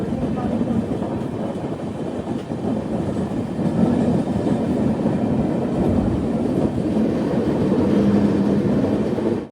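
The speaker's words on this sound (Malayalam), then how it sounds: "ട്രെയിൻ ഇപ്പോൾ നാഗർകോവിൽ ടൗൺ റെയിൽവേ സ്റ്റേഷനിലെത്തി." The Gurudev Express, running on the Nagercoil to Shalimar route near Nagercoil Town station, makes a loud, continuous rumble with steady rattling, heard close from inside a coach without a break.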